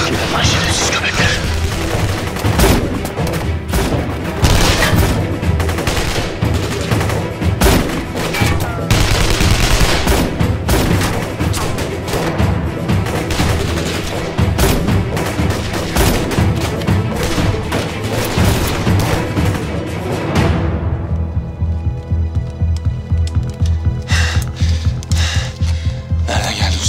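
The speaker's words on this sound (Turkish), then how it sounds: "Nereden geldi bu silah sesleri?" Heavy gunfire in a military action drama scene with a helicopter nearby, dense rapid bursts of shots blazing loud and almost continuous, then thinning to scattered cracks near the end.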